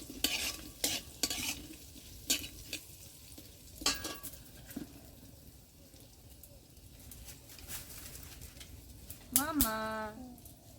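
Potatoes with salt fry in a pan, with a low sizzle under intermittent sharp scrapes and clinks of a spatula stirring, close by, and a voice speaking briefly near the end.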